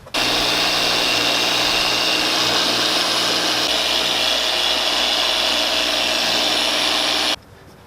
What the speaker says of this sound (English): I'm going to grab my swirl killer from Adam's Polishes and actually polish this out